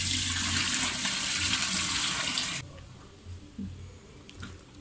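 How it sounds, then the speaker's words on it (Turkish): Darkened salted soaking water pours off sliced eggplants being drained for a winter preserve: a steady, close rush of liquid runs for about two and a half seconds, then stops abruptly, leaving faint drips and quiet kitchen noise. "Şimdi bunları süzdüreceğiz."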